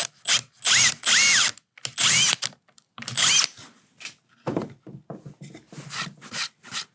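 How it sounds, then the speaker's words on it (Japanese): A drill bores a hole into the wooden block of a Nanjing plane, coming in close, loud bursts of whirring and grinding that are broken up by short pauses and by quieter scraping. "後ろの方で穴を開けます"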